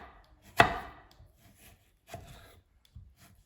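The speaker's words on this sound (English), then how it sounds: "for my other piece of mango, what I'm going to do, I'm just going to slice it like that" A knife slices through a piece of mango on a cutting board, one sharp cut followed by two softer chopping strokes, close and quiet with no talking.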